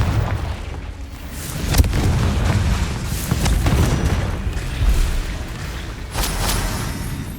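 Blasts from the Confringo fire spell in Hogwarts Legacy, several booming impacts over a steady rumble, with sharp bursts near 2, 5 and 6 seconds.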